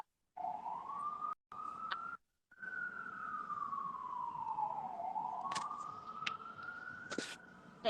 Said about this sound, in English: I think it was the sirens